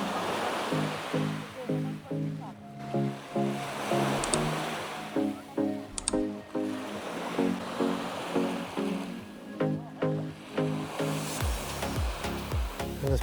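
Waves roll in on the main town beach at Pefkos, Rhodes, breaking in a steady rhythm of surges and washes, close and moderately loud, with no voices over them.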